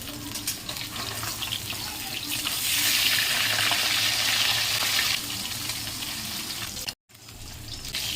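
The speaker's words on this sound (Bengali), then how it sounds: "মাছগুলো ভেজে নেব মাছটা উল্টিয়ে দেবো এখন" Fish frying in oil in a pan during village-style cooking, a steady broad sizzle that swells in the middle and drops out briefly near the end, with no talking.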